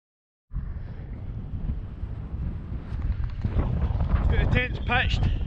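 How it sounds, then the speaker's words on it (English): Wind buffets a tent pitched at a freezing winter wild camp on Meikle Millyea, a steady broadband roar that grows stronger toward the end, with flapping and rustling bursts over it. "The wind's picked up, which wasn't forecast"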